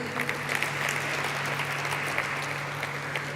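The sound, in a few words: applause at a listing ceremony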